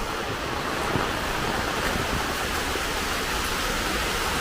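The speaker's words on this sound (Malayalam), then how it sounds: "നേരം വെളുത്തു, മഴയും തുടങ്ങി." Steady, dense rain falls in the morning, a loud continuous wash of hiss with no break and no voices.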